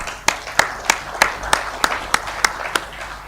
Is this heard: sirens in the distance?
no